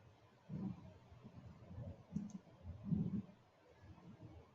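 Mouse button clicks on a computer, a few soft close clicks spaced over a few seconds against a quiet room background, with no talking.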